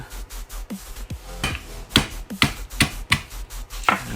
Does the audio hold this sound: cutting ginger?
yes